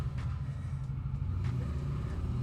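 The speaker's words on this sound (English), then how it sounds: "So you hear a little bit more cars and stuff." Cars pass on a nearby street, a low, continuous traffic rumble with faint engine swells, heard indoors at modest volume with no talking.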